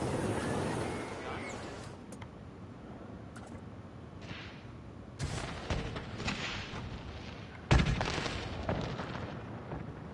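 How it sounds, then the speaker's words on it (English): Video game fireworks show: a string of sharp booming bursts and crackling pops at irregular intervals, with the loudest blasts toward the end over a steady background hiss. "It does a very nice, cool fireworks show"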